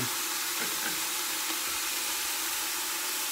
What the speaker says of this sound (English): It's like kind of frying, but not. It's letting those, letting that skin get down on there.